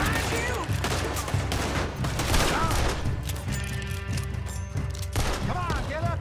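Revolver gunshots ring out in Red Dead Redemption 2, several sharp blasts scattered among dense game sound effects and voices, fairly loud and close.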